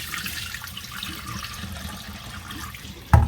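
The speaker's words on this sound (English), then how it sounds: "Strain out that water." Rinse water drains from washed rice as it is strained, a soft continuous pour that runs steadily before a sudden loud splash or clatter at the very end.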